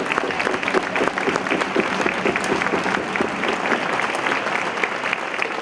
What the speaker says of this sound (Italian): Grazie a tutti, veramente un applauso.